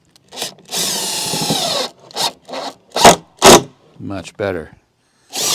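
A power drill drives a regular sheetrock screw into plywood on a gypsy wagon build in several loud, close whirring bursts with short pauses, and someone speaks briefly near the end.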